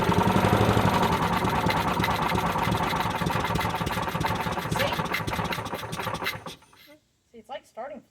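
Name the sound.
Toro lawn mower engine running briefly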